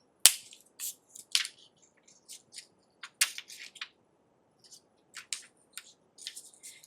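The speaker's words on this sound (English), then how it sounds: "fold the paper back along the other dart leg" Paper pattern piece being folded back along a dart leg while drafting a garment dart, giving a string of light, crisp crinkles and taps, some sharp, scattered unevenly and close by with no talk.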